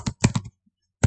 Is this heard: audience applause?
no